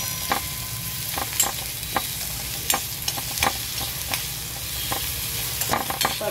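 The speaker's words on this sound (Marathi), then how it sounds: "शेंगदाणे कच्चे नको लागायला म्हणून जरा परतून घ्यायचं. आणि मिरच्या वगैरे सुद्धा परतायला लागतात." Peanuts and green chillies are roasted in a pan for kairicha kharda, a soft steady sizzle broken by repeated sharp scraping clicks of a spatula stirring at an even, unhurried pace.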